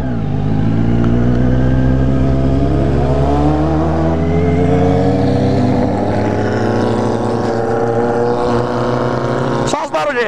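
Two Kawasaki Z750s and a Honda Hornet idle and rev together outdoors, a loud, steady multi-engine drone with rising and falling pitch sweeps throughout, speech faintly mixed in, and a sharp burst near the end.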